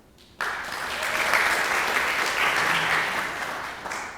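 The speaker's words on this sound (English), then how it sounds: "Lots of clapping today." Sustained applause from an audience at a Lambda Pi Eta induction ceremony starts abruptly, holds at a steady full level of many hands clapping, then begins to thin toward the end.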